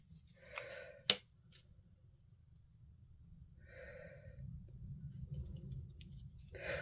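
Scissors snip through patterned paper with one sharp, close cut, a few soft rustles of the sheet around it, over a low steady background hum.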